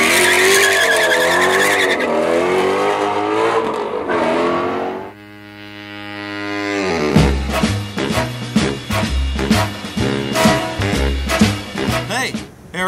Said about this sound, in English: from the burning rubber at the beginning of this video, this is a video on Michelin's new performance tire, the Pilot Sport 4S